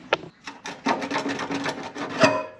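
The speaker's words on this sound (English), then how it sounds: "Then we're going to take some pliers and work our way and get that out." Pliers scrape and grind a rusted spark arrestor out of a Polaris RZR exhaust, a close series of short metallic rasping and rubbing strokes in an uneven rhythm.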